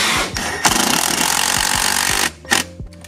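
Power tool driving a screw during a Toyota Land Cruiser interior install, a loud, close ratcheting burst with rapid clicking impacts that stops abruptly, followed by a short second burst.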